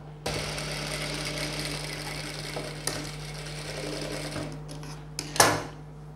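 An electric sewing machine runs steadily, stitching a boat neck blouse with a continuous close whir, then slows and stops with a few brief clicks near the end.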